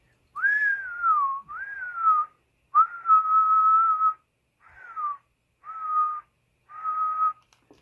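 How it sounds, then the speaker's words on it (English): A person whistles into a sound level meter indoors: six clear, close tonal whistles, some steady and some sliding downward, separated by short pauses in an otherwise quiet room. "When I first whistle into it, look how high that needle's going."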